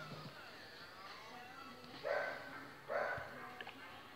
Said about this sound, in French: Pardon pour les bruits de chien.